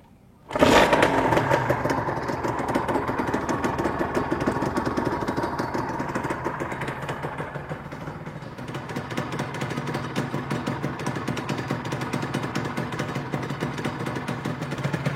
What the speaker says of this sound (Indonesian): kita dengerin bunyi motornya dan dry clutch ya udah pasti